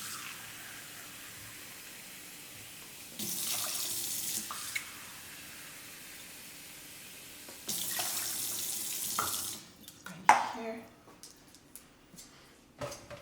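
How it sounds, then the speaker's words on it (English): A kitchen tap runs cold water into cups for cooking in two sustained pours, followed by clattering and splashing near the sink. "you want to add 3 cups of cold water."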